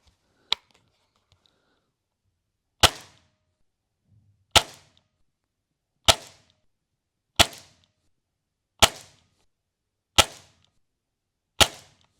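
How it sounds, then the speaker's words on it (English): Air rifle shots from a Hatsan Striker and Gamo Delta Fox fired downrange outdoors: eight sharp, loud cracks, one early then seven at steady intervals of about one and a half seconds, each with a short decaying tail, no talk. "Okay, so we've put a few shots down range."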